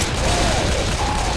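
Sustained gunfire aimed at the Tank in Left 4 Dead 2, a loud dense wash of rapid shots and mechanical clatter filling the whole moment, with voices faintly under it.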